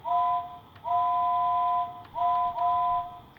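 A Lionel 131 model steam locomotive whistle sounds three times, a long steady two-tone blast followed by two shorter ones, loud and close against a faint background hum.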